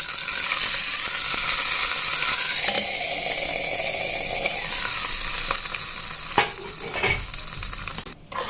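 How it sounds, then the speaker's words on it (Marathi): Hot tempering of cumin, mustard seeds and curry leaves poured into coconut chutney, a loud close sizzle and crackle with stirring clinks and a few sharp pops near the end. "आता मी त्याच्यामध्ये हे फोडणी दिलेलं ॲड करणार आहे"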